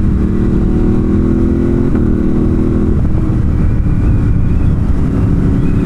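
A 2018 Ducati Monster 1200 S motorcycle engine drones steadily, loud, with a brief shift in pitch midway as the revs jump and settle after a missed gear, wind rushing over the microphone throughout.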